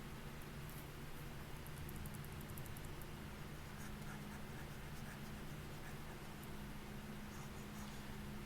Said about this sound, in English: let's erase some of this stuff.